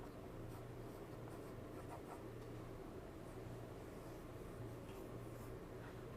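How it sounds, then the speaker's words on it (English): Pencil sketching lettering onto a wooden holiday ornament, a steady soft scratchy rubbing of graphite on wood that carries on continuously, close and quiet with no talking. "So I'm just going to sketch this out in pencil."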